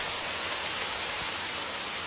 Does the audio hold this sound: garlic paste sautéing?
no